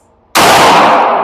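A single loud, sharp gunshot from a Smith & Wesson M&P Metal Carry Comp pistol, a compensated handgun, cracking suddenly after a brief quiet moment and ringing out with a sustained bright decay to the end.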